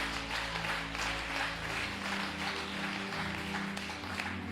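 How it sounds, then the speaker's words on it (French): Congregation applause during a church testimony service, a faint, steady wash of clapping heard at a distance over a low sustained hum. "Il mérite acclamation."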